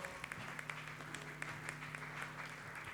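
Church congregation applauding together at a Thursday intercession service, a dense steady patter of many hands clapping close by, with a sustained musical tone underneath and scattered voices.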